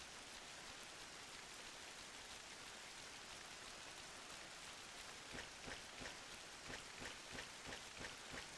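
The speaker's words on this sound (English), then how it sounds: "It's always raining here," Steady rain falls in the Final Fantasy XI online game world, a faint, even hiss of drops that continues throughout with no voices.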